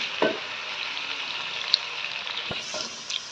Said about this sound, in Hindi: ये 3 अदद हमारे पास मीडियम प्याज हैं जो हमने बारीक काट के रख लिए थे, इसको अच्छे से गोल्डन ब्राउन होने दें।